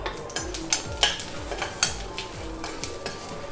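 Mustard seeds, urad dal and curry leaves fry in sesame oil in a kadai, a steady close sizzle and crackle with a spoon repeatedly scraping and clinking against the pan.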